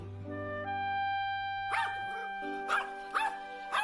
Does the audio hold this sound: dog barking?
yes